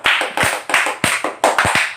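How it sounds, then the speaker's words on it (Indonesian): A few people clap in short, rhythmic bursts of sharp hand claps, close and distinct, at a judges' review for an online performance festival, with no talk over it. "kita kan ada tepuk tangan Gaskin tadi"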